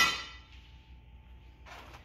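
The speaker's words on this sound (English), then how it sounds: "Yeah, I set it down and it fell." A metal part of an old Evinrude outboard motor with power trim topples over onto a hard surface, giving one loud ringing clang that fades away, followed by a second lighter clatter.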